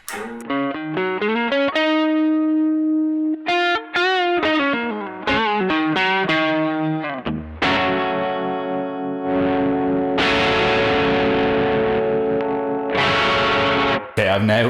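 An electric guitar runs through an OPFXS Electric Vibe, a Univibe-style modulation pedal. Melodic picked lines give way to thicker, distorted chords with a swirling, throbbing pulse, loud and up close.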